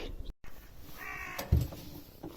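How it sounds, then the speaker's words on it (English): Two crows or ravens squabbling beside the River Derwent, giving a few loud, harsh caws close by, with a sharp knock and faint background noise between calls. "right good old moaning and scrap, these two crows, or ravens"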